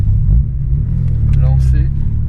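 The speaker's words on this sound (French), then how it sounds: "je vais partir en première, faire une petite accélération" A VW Golf 2 GTI 16V pulls away in first gear with a steady low engine rumble and a brief rise in revs, heard from inside the car with a voice speaking over it.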